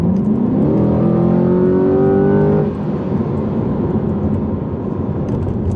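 A 2020 Chevrolet Corvette C8 accelerates hard at full throttle, its engine note climbing loudly and steadily for a few seconds before easing off into a lower, quieter road roar.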